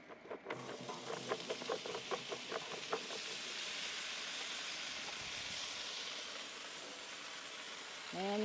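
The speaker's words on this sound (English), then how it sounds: "that's where I'm going to dump those potatoes down to get a good sizzle." Potatoes sizzle on a hot Blackstone flat-top griddle, a steady broadband hiss that holds throughout, with a few rhythmic clanks early on and a brief voice near the end.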